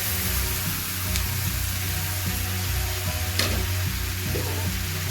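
Steady, close sizzle of frying onion, garlic and tomato as boiled potatoes and mutton go into the pan, with brief stirring clatters and a few louder spatters over continuous hiss.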